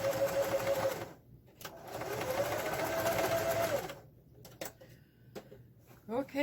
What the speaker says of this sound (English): second seam, just going to back stitch